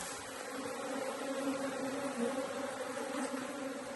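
Honeybees at an open hive keep up a steady, close buzzing hum that stays unbroken and fairly quiet throughout, with no voices.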